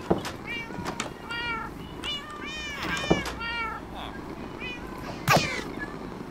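Cats in the Minecraft video game meow repeatedly, a string of short, clear, high-pitched cries spread over several seconds, with a few louder calls near the middle and end against a soft game background.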